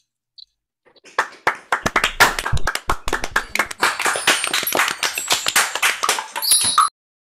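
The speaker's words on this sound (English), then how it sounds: "So everyone, go and give a round of applause to her." A small open-mic audience claps for several seconds, a dense, close patter of hands that builds quickly and then stops abruptly.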